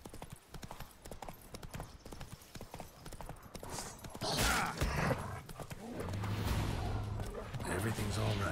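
Horse hooves clip-clop at a steady riding gait in The Witcher 3, loud and close, with a low rumble of game ambience building toward the end.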